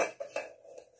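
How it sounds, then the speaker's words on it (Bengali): A spatula scraping and knocking against a pot while stirring rice being dry-roasted into puffed rice, a few quick metallic clinks and scrapes heard close up with no talking. "আর এই যে খুন্তি দিয়ে নাড়ো"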